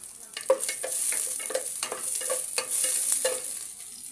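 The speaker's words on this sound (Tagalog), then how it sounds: "Halo-haloin." Sliced onions stirred in a hot pan, a soft continuous sizzle broken by a steady series of scraping stirs, close and fairly quiet with no talk.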